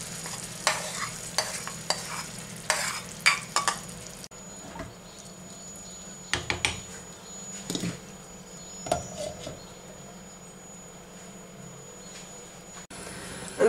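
Chickpeas go into a sesame sauce loosened with cooking broth in a pan and are stirred, with repeated scraping strokes and soft clacks over a low, steady simmer.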